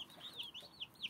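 Day-old buff Orpington chicks in a henhouse give a run of faint, high, rising peeps in quick succession, with no talking.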